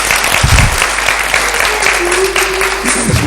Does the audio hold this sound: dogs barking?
no